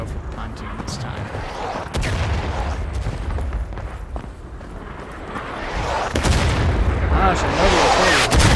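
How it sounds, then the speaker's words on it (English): Artillery fire in the Civil War game War of Rights during a fight near a bridge and pontoon: repeated heavy booms and scattered musket shots, loud and close, rising toward the end, with faint voices under the din. "one of our guys just got taken out by the artillery"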